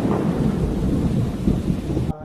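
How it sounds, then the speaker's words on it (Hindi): Heavy rain pours in a dense, steady roar with deep rumbling thunder underneath, loud and continuous before cutting off abruptly near the end. "तभी बहुत तेज बारिश होने लगी"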